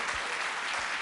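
A church congregation applauds during a sermon, a brief, dense wash of steady clapping from many hands filling the room.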